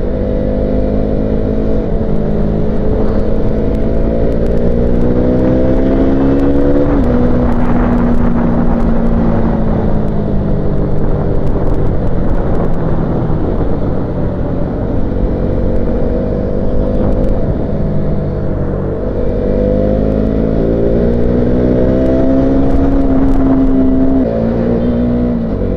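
A powerful motorcycle engine on a weekend road ride, droning loudly and steadily with rising and falling revs as it accelerates and shifts, close and continuous throughout.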